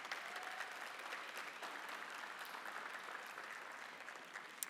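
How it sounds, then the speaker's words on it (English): Graduates at a nursing and health sciences evening of excellence applaud their family and friends, a steady, even wash of clapping from a large crowd heard at a distance the whole time. "celebrate them with some applause for them supporting you along your journey"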